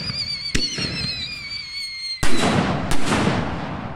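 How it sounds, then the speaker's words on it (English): Firework shells launch from a mortar tube in sharp thumps, one near 0.5 s and a louder one past 2 s, with crackling and whistling tails trailing after each, loud and close outdoors. "That shell, blue, coming out of the tube."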